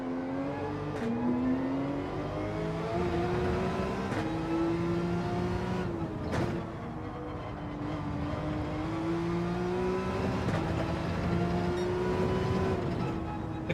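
A Porsche race car engine roars steadily in Gran Turismo 7 on hard tyres, revving up through gears in rising sweeps with brief lifts and shifts, loud and continuous with no talk.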